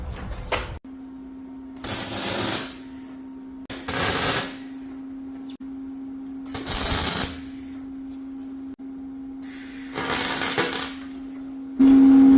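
Tack welding on steel drawer frame corners comes in five or six separate bursts of harsh crackling buzz, each lasting about a second, with a steady electrical hum filling the quiet gaps between them.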